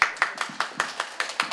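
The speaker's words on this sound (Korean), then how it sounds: "큰 박수 해주십시오." An audience's hand claps land in a steady, quick rhythm, eight crisp sharp strikes evenly spaced and close by, with no talking.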